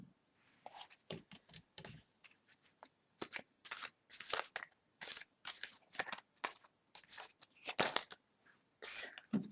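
Large oversized cards are slid back into the deck with a string of faint, close papery shuffles, scrapes and soft flicks in uneven bursts, with no talking.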